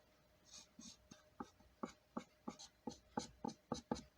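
A pencil scratches short, repeated strokes across paper, a steady series of close, quiet scrapes at an even rhythm with no voices.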